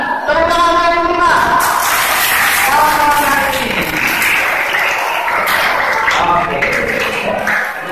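A crowd at a children's creative entrepreneurship class breaks into sustained applause lasting several seconds, with a host's amplified voice talking loudly over the clapping throughout.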